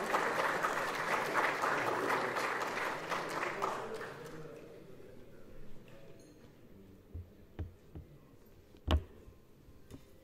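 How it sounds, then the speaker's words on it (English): A crowd applauds for Ambassador Mushingi at a speech event, the clapping strong at first and fading out after about four seconds, followed by near quiet with a few scattered knocks. "Please, your applause to Honorable Ambassador Mushingi."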